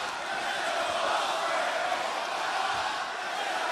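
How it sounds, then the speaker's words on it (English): Wrestling fans in an arena crowd cheering Ospreay on, a steady, dense wash of roaring voices that holds at an even level throughout with no single voice standing out. "Fans trying to cheer Ospreay on"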